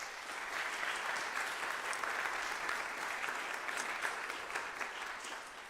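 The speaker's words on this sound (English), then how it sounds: "Please give him a round of applause." A concert audience at a university percussion ensemble performance applauds steadily for a marimba soloist, a dense, even wash of many hands clapping at moderate distance, sustained throughout without speech.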